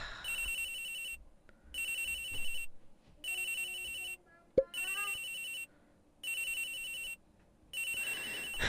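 A video game telephone ringtone trills in repeated bursts of about a second, separated by short silences, loud and close, with a brief voice in the middle.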